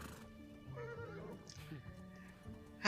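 A horse from The Dragon Prince animated series neighs amid a busy soundtrack, with a whinny rising over background music and talk, ending in a sudden loud burst.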